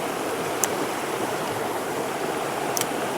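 A back-water mountain creek flows in a steady, even broadband rush, close and continuous, with a couple of brief faint clicks over it and no voices.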